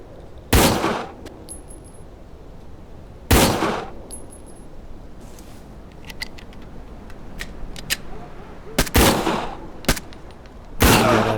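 Gunfire in the tactical shooter Door Kickers 2: Taskforce North, with several loud, sharp bursts of shots spaced apart and fainter clicks and pops in between, no talking.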